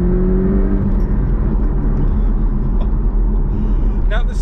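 A Porsche 718 Cayman T with a 2-litre flat-four engine drones steadily at speed, a loud, continuous low rumble and whir heard from close by with little change in pitch.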